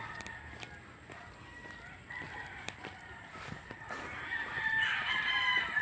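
Chickens on a poultry farm, with a rooster crowing at moderate distance amid steady ambient clucking and outdoor background noise, growing somewhat louder toward the end.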